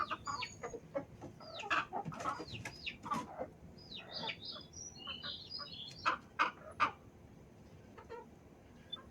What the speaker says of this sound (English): This is Pearl and her 6 chicks